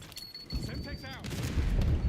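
A Semtex grenade is thrown and detonates in the Call of Duty Black Ops 6 multiplayer, ending in a loud, rumbling low blast over game-chatter and a high whine, with a voice talking beforehand.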